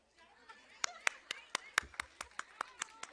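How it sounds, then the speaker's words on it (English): A small audience claps at an International Women's Day event, with a dozen or so sharp, separate claps over a few seconds and a low murmur underneath. "Claps, please."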